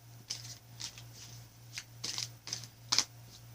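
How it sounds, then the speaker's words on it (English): An oracle card deck being shuffled by hand, giving a run of soft riffling bursts with brief crisp flicks, close and fairly quiet, with no talking. "One more shuffle and I'll cut for the bottom."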